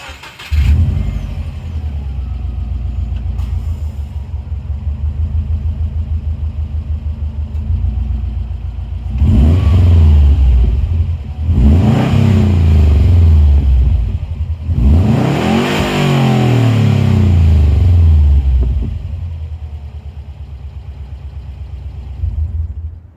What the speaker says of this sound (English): You know, the Subaru rumble that everybody loves.